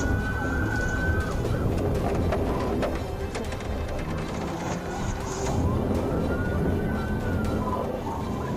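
A patrol car siren wails over a dense rumble of traffic and engine noise. Its rising and falling tone stays moderately loud and continuous throughout, with a few scattered higher chirps on top.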